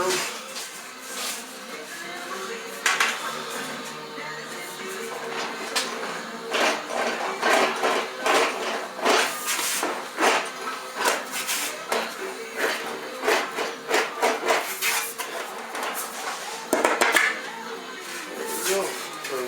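A hammer shrinks flat aluminum sheet into a curved fender for a Cf100 Avro Speedster, producing repeated sharp taps in uneven bursts, with a person talking between the blows.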